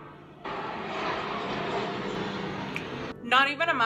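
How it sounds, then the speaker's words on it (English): A jet aircraft roars overhead above a valley in a steady broadband rumble for a few seconds, then a voice starts talking as the engine noise cuts away. "we're gonna be hearing a lot of like helicopters and jets"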